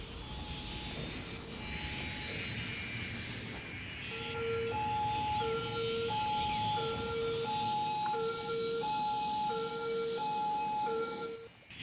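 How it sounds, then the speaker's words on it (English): An airplane in the city-building game Cities Skylines rumbles steadily through its takeoff run, a broad engine roar that swells partway through and holds loud, with rising whine tones and a few steady electronic tones on top. Nobody speaks. "A plane about to take off."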